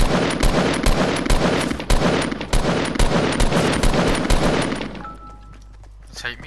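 Gunfire in the video game Fortnite, rapid bursts of loud shots in quick succession for about five seconds before cutting off into quiet.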